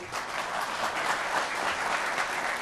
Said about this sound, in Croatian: još jednom aplauz za vas